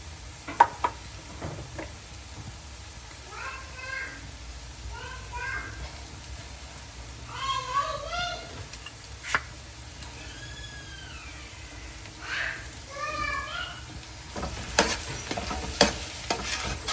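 Grated carrots fry in a pan for carrot halwa and are stirred now and then, a steady soft sizzle with scraping stirs. Birds chirp faintly in the background.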